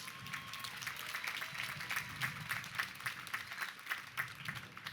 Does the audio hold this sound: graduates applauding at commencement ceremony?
yes